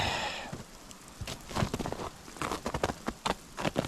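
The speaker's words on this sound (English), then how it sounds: "now we're getting freezing rain" Freezing rain patters on old packed snow on a hillside, a dense, irregular crackle of small ticks and taps, close and fairly quiet, with no voices.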